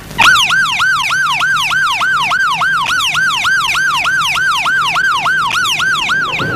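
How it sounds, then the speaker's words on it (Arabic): A loud ambulance siren wails continuously in a rapid, repeating rising-and-falling pattern, close and steady throughout with no talking. "يلا لا يا جدعان حد يجيب الاسعاف"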